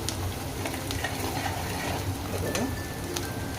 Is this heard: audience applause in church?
no